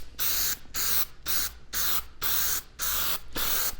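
A can of water-based polycrylic finish is shaken hard in a steady rhythm, about seven loud rattling bursts separated by brief pauses, close up with no voices.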